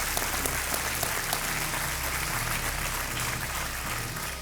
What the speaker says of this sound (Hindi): विक्रम चंद्रा के लिए अभिनंदन और तालियों के साथ स्वागत।